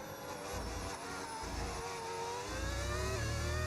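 A V10 Formula 1 engine in the F1 25 racing game revs steadily, with rising whining harmonics over a low engine rumble, loud and continuous with no voices.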